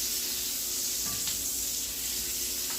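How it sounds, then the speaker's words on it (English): Onions sauté in a pan for a copycat Steak 'n Shake Frisco melt, a steady soft sizzle and crackle with a couple of faint clinks of stirring. "I want to saute the onions"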